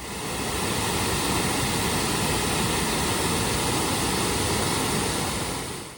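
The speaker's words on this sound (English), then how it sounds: "we reach the Bronx River waterfall. It is not a towering waterfall, rather a peaceful cascade of about 7 feet." The Bronx River waterfall, a gentle cascade of about seven feet in a forest at the New York Botanical Garden, pours in a steady, loud, unbroken rush of falling water with no voices.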